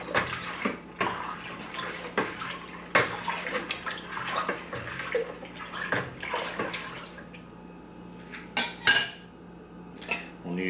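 Homemade strawberry wine is stirred in a fermenter, with liquid sloshing and a utensil clinking against the vessel in irregular knocks and splashes, close by and moderately loud with no talk.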